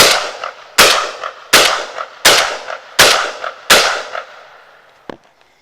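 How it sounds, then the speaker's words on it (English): A 12 gauge shotgun fires double-aught buckshot outdoors: six loud, evenly spaced blasts, each with a reverberating tail, followed by a faint click or handling noise at the end. "here goes 6 more rounds of that double-aught buckshot"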